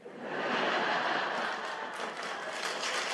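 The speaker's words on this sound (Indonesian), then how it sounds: "Jangan salah tepuk tangan ya." An audience in a church sermon breaks into steady, moderately loud applause that swells and holds for a few seconds as a dense wash of clapping.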